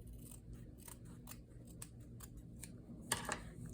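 Scissors snip away excess fabric at the corner of a fabric-covered bubble mailer, a run of soft, close, irregular cuts ending in a brisker double snip, with no talking.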